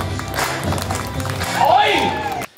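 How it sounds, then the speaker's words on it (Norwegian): Audience clapping at an event in Sponvika, where a crowd applauds as loud as it can in a vote-by-applause contest: dense, steady clapping rising in intensity with a cheer or shout near the end, then cutting off abruptly. "Så dere må klappe litt høyere, altså"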